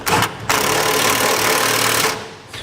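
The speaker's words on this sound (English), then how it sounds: "we'll take a 3/4 inch wrench and socket, and we'll tighten down our brackets to our frames" A 3/4 inch socket on a power driver tightening B and W 5th wheel base rail brackets to a 2015 Ford F-250 frame: a short rattling burst, then a longer, loud, rapid hammering rattle close by that fades out.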